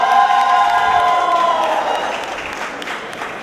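A crowd cheers and applauds loudly at a live event, a dense roar of whoops and clapping that slowly fades across a few seconds.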